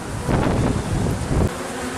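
African bees buzz in a dense, continuous drone around an opened hive, loud and close throughout, swelling slightly in the middle before easing off, with wind rumbling across the microphone.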